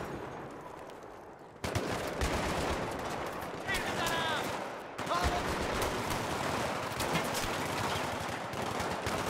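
Automatic gunfire in Battlefield 3 co-op combat, loud and continuous after a quieter opening, with dense rapid bursts, a sudden jump in intensity and a brief voice in the mix.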